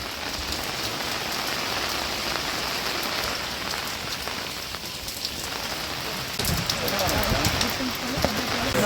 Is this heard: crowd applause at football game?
no